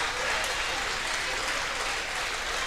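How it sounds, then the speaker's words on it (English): A basketball crowd at a high school game gives sustained, dense applause to departing seniors, a continuous roar of clapping that fills the gym, with an announcer's voice talking over it. "round of applause goes to these seniors as well"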